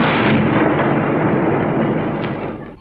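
A second, stronger explosion at night in Luanda, Angola, a heavy sustained boom with a long rumbling body that holds loud for over two seconds before slowly dying away.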